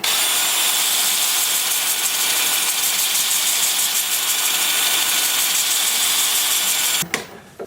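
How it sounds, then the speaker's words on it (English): A wood lathe turning sycamore in reverse at about 350 rpm gives a steady, loud motor drone with a whirring hum throughout, then cuts off abruptly near the end, leaving a couple of faint knocks. "Then with the lathe spinning in reverse at about 350."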